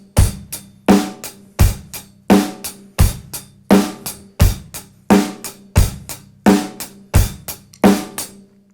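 Steady drum kit groove with eighth-note hi-hat ticks and a punchy snare backbeat on 2 and 4 over kick, loud and close, repeating evenly for several bars with no talking.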